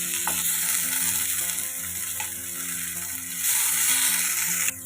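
Broccoli sautéing in hot oil gives a steady, close sizzle and frying crackle throughout, with light stirring scrapes and a slight swell in loudness near the end.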